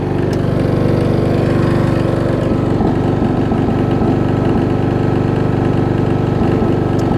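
A worn Craftsman riding mower's small engine runs steadily at a rough idle, loud and close, with a constant low chugging drone and occasional irregular sputters; it smokes, burning a lot of oil.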